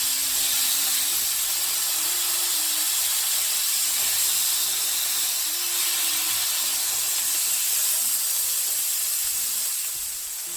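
Smash burgers sizzle and hiss loudly on a hot cast iron skillet as they sear for a crust. The bright frying noise is continuous and close, with a faint tonal hum beneath it and no speech.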